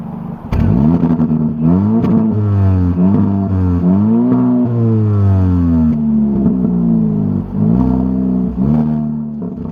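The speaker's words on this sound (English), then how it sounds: "Let's quickly hear what the engine sounds like on this." A 2023 Hyundai Elantra N Line Ultimate is revved repeatedly from idle. The engine and exhaust rise and fall loudly in several sweeping pulls, heard close up with a throaty burble between revs.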